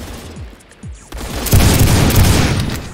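Shots from a Desert Eagle L5 handgun in the Phantom Forces shooter game crack loudly a few times, followed by a dense, booming burst of gunfire.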